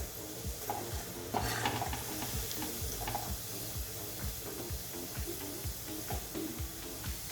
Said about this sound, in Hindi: और हमें इसको 2 बार फ्राई करना है, तो ज़्यादा देर फ्राई नहीं करेंगे, 3 से 4 मिनट